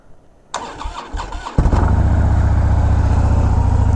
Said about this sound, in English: This is an air-cooled engine and is gonna sound way different from what I have on my 2020 Lowrider S